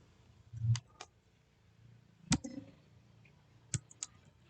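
Computer key clicks while entering a GeoGebra function graph, including the Enter press: a few sharp, separate taps spaced over several seconds, quiet and close, with no one talking.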